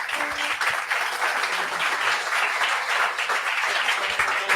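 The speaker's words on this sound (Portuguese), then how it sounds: "Dê um aplauso a Jesus" A church congregation applauds in a Portuguese-language service, a steady wash of many hands clapping at moderate distance, with no talking.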